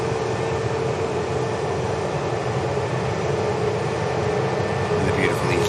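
A jet departs Manchester Airport outbound for Dublin, its steady broad roar filling the whole stretch while a voice talks over it.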